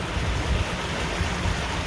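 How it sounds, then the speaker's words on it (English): A small waterfall spilling from a creek beneath an old stone arch bridge, a steady broadband rush of falling water heard close and continuous, with no voices. "Got like a little waterfall there."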